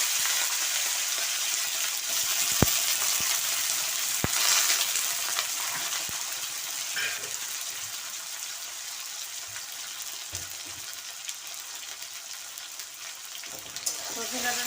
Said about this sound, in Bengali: সজনে ডাঁটাটা আমি হালকাভাবে ভেজে নেব।